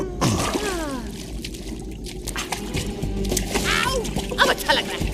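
A fish is dropped back into water with a brief close splash, followed by sloshing and dripping liquid sounds under continuous background noise.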